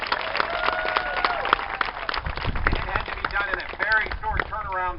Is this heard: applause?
yes